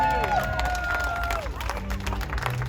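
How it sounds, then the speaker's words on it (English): An audience at a Howl-O-Scream Orlando show gives a short burst of crowd noise, with cheering and a whooping voice riding over a rough wash of clapping that stays loud for a couple of seconds. "Give yourselves a big round of applause."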